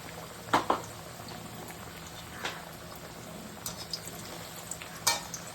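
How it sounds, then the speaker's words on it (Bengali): Pumpkin and capsicum pakoras in a rice-paste batter fry gently on low heat, giving a soft, steady bubbling sizzle with a few louder crackles and spatters scattered through, no voices present. "ধিমি আঁচে ভাজা হচ্ছে।"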